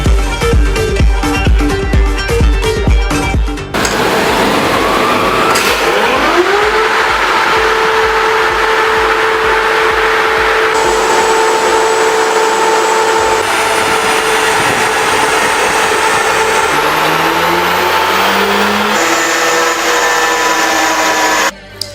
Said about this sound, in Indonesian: Dyno test cara yang tepat untuk memperlihatkan angka pasti dari performa mesinnya.